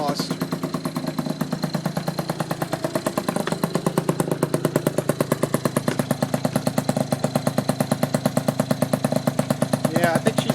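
A Honda Express SR NX50 small motorcycle engine, leaking gas, putters at idle up close, its exhaust popping in a rapid, steady pulse throughout.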